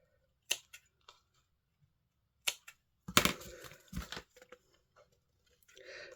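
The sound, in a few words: cutting off spare twine for a die-cut card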